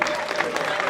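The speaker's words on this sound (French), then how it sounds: "On applaudit très très très très fort." Audience applause at a French ceremony handing out health insurance cards to actors, with dense, steady clapping filling the short moment.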